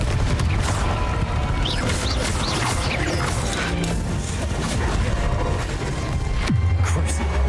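Confringo blasting curses explode in a Hogwarts Legacy fight, loud crashing blasts and thuds piling up in a dense, continuous barrage of combat noise.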